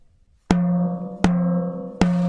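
Snare drum with its snare wires released, hit with a drumstick three times, producing hollow tonal thuds that ring with a steady pitched tone between strikes, close and without buzz.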